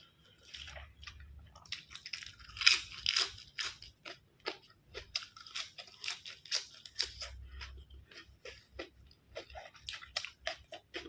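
Close-up crunchy chewing of crispy Isan sausage eaten with salad greens, with rhythmic bites and crackling crunches rising and falling in bursts, no talking.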